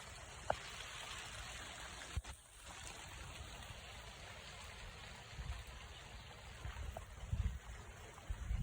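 Steady cold rain patters on surfaces in an Arizona backyard cactus garden, a soft continuous hiss with occasional brief knocks and gusts.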